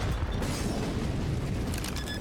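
A grenade bursts in Counter-Strike, a dense low boom with rumbling debris that stays loud and fills the full short span, with no talk over it.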